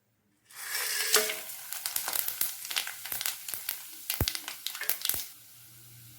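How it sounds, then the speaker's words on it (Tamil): Whole spices dropped into hot oil for a chicken gravy hiss and crackle at once, a close sizzle with sharp pops and spatters that steadily thin toward a quieter fry. "எண்ணெயில் இந்த மசாலா ஐட்டம்லாம் சேர்த்துக்கலாம்"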